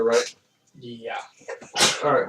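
A sneeze bursts out near the end, loud and close, following a few words of conversation between people.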